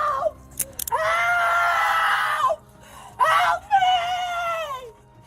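A woman yells and screams during an arrest by police at a family dispute, delivering loud, drawn-out wailing cries in two main bursts separated by a brief pause, close and harsh.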